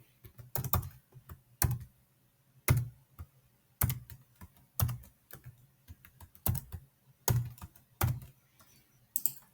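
Bursts of typing on a computer keyboard as a password is entered, with clusters of sharp, close key clicks separated by short pauses, repeating about a dozen times with no talking.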